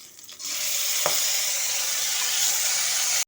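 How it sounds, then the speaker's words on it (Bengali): Marinated cauliflower fries in hot oil in a pan, a loud steady close sizzle that holds evenly for a few seconds with an occasional faint scrape of stirring, no voices. "ফুলকপিগুলোকে তেলের সাথে ভালো মতো করে কষে নিচ্ছি"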